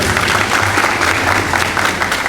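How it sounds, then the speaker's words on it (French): Applause from a university audience welcoming a speaker at a 2022 semi-final contest, loud, thick clapping from a crowd that holds steady across the short stretch. "Applaudissez-le s'il vous plaît."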